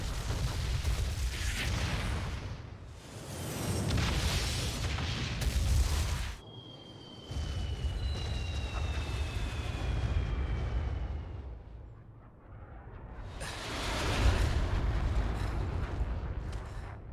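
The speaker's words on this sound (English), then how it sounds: "Oh, right, the airstrike." Heavy airstrike explosions boom and rumble in a video game, a series of loud, long roaring blasts rolling one after another with a brief whistling streak between them, no voices.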